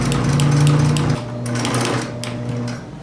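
A home sewing machine stitches through a quilted table runner sandwich of fabric and batting, its steady mechanical whir running near and loud for about a second, then continuing at a lower, slower hum.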